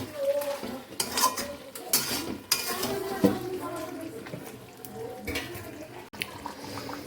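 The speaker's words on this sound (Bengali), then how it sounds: "মাংস এই যে কষানো চলছে এখনও আর একটু হবে কষানো" Meat being sautéed (kosha) in a pan in a home kitchen, with a spoon scraping and clinking against the metal as it stirs over a low sizzle, in intermittent close strokes.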